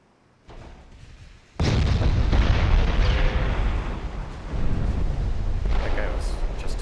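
A heavy naval shell strikes a 1906-era warship in a naval battle game, with a sudden loud blast followed by a sustained roaring, rumbling aftermath that swells again near the end.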